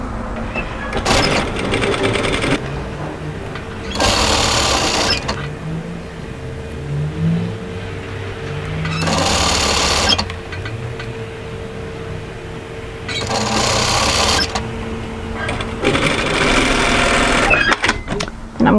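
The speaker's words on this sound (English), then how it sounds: "I'm going to sew a line of stitches just in from the edge" A sewing machine stitches a line along a fabric edge for a pleated maxi wrap dress, running in several sustained whirring bursts separated by brief pauses, close and fairly loud.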